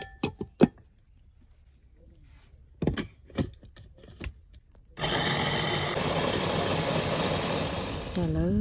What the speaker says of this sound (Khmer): ឥឡូវនេះខ្ញុំបានកិនវាបានម៉ត់ប៉ុណ្ណឹង